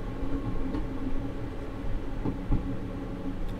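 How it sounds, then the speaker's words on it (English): A train coasts on the Looe Valley Line in Train Simulator, giving a steady low rumble of wheels on rail with faint rhythmic clicks and a couple of soft knocks. "I'm just going to allow the train to continue to coast for now."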